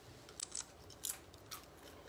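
A few faint, crisp crunches of tortilla chips, about four sharp snaps spaced apart, with no talking.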